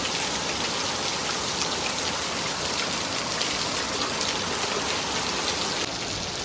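Steady, heavy rain falls in a village, making a dense, even hiss of drops on surfaces that holds throughout with no voices.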